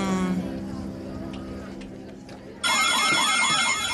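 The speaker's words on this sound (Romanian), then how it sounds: "Cine e creierul de găină care mi-a declanșat alarma?" A loud electronic alarm suddenly starts ringing in a cartoon, a rapid warbling tone that bursts in after some quieter talk and music and continues steadily to the end.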